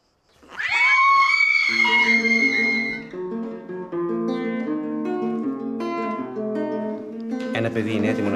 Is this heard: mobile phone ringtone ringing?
no